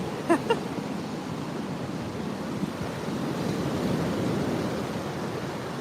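Sea waves washing onto a beach on a rough day, a steady broad roar of surf with wind buffeting the microphone, a couple of faint brief knocks near the start, no speech.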